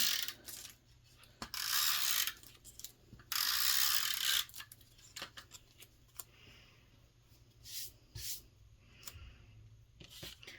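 Tape runner laying adhesive onto a paper card frame, heard as bursts of close ratcheting, clicking rasps, two long ones early and several shorter ones later, with quiet pauses between.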